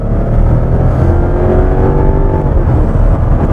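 A 2007 Lexus LS460 long-wheelbase luxury sedan with a 380-horsepower engine accelerates hard, heard from inside the cabin. A loud, steady engine drone rises smoothly in pitch under heavy road rumble, with no talking.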